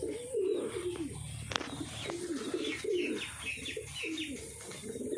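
Several pigeons coo in soft, repeated low bubbling phrases close by, a group of four perched together in an outdoor setting near coconut palms, with a few faint chirps and a brief sharp tap mixed in.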